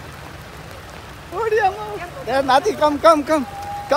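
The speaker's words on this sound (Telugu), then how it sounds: "పెద్ద వర్షం" Heavy rain gives a steady, even hiss in Antigua, Guatemala, first heard alone and then continuing faintly beneath people talking up close.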